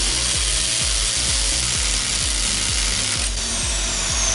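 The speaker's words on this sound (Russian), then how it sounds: "Давай, сверли." A close electric drill whines steadily while running, with a rhythmic low thumping beneath the motor noise and no voices.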